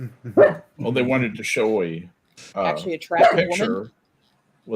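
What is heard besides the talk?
dog barking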